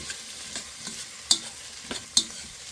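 Sweet potato stems stir-fried in a pan with perilla seed powder, a steady sizzle broken by a few sharp scrapes and clacks of a utensil against the pan.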